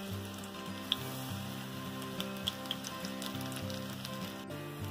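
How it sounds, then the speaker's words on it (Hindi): Onion pakoras frying in hot oil in a kadai, a steady close sizzle and crackle of bubbling oil throughout, with a few sharp pops. "देखिए, हमारे पकौड़े अभी फ्राई हो रहे हैं इस तरीके."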